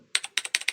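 Computer keyboard keys clatter in quick bursts during an escape puzzle game, six sharp clicks in pairs, close and distinct with no talk.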